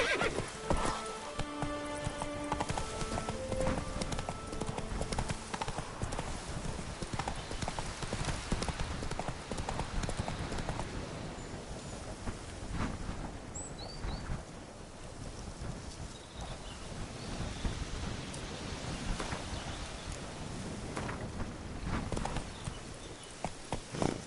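The horse Roach in the video game The Witcher 3 gallops with steady, rapid hoof clip-clops under rushing wind noise, and a whinny rises near the start, loud and close throughout.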